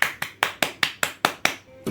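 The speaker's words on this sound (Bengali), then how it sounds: "চলো হাততালি দাও" Hands clap seven times in an even, brisk rhythm, each clap sharp and close, with a short pause at the end.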